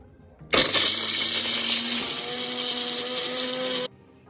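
A blender grinds cooled spices into a smooth paste, starting abruptly and whirring loud and steady for about three seconds before stopping sharply.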